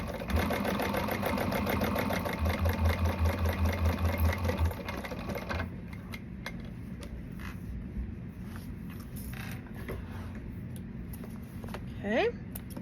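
A home sewing machine runs steadily for about five seconds, stitching fabric pieces right sides together for an Allegra garment, then stops and leaves quieter handling sounds and a faint voice.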